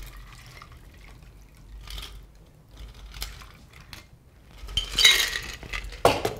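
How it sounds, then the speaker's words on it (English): Cocktail poured into a glass in an IceBreaker Pro chilling test, faint clinks and handling early on, then a louder splashing pour near the end, close by with no talking. "Now let's pour."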